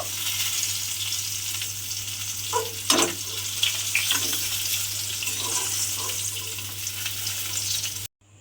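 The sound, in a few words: okra frying in oil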